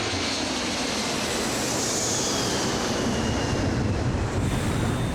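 A damaged Boeing 747 airliner dives in a steep emergency descent after explosive decompression, heard as a loud, continuous roar of engine and rushing wind with no break and no voices.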